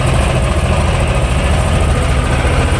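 Tractor engines, a YuMZ and a T-25 ploughing together as a pair, run steadily in a field, a continuous loud low rumble and drone with no pauses and no talk.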